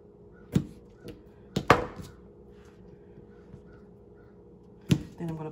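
A knife chops vegetables on a cutting board while a cauliflower crust pizza is being made, giving a few sharp, sparse thuds spaced irregularly against a quiet room.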